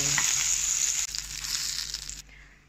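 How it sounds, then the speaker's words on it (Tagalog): Meatballs dry-frying in a pan with no oil give a steady, loud sizzle and crackle close by, with faint stirring scrapes, before the sound drops away sharply near the end. "Fry natin itong meatballs. Dry fry lang natin."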